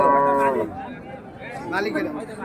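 Cattle lowing at the Ranigonj village livestock market in Ghoraghat, one close, loud, drawn-out moo and then a second rougher bellow, with faint crowd chatter behind.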